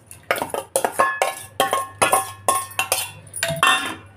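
Raw mango pieces tipped into a bowl while preparing Ugadi pachadi, giving a run of roughly a dozen close, sharp clinks and knocks against the dish in an uneven rhythm, with no talk.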